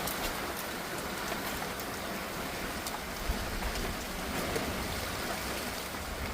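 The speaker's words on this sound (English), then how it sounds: "coming on 5 minutes now, raining like this" Steady monsoon downpour drums on surfaces outdoors, a dense continuous hiss of rainfall with a few slightly louder drips, with no voices.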